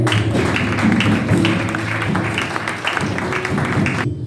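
A church congregation at a Sunday service in Le Centre des Rachetés applauding, a steady, fairly loud patter of many hands clapping that carries on for several seconds over a low musical hum, then stops abruptly.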